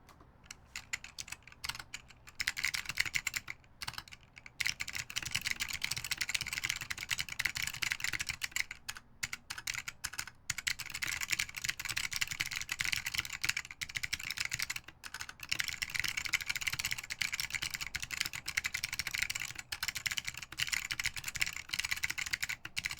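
A skeleton60 custom mechanical keyboard is typed on steadily, giving a fast, quiet stream of close clacking keystrokes with a few brief pauses.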